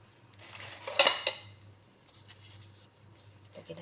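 Ingredients being mixed in a bowl, with a few quick clinks of a utensil against the dish followed by soft, faint stirring.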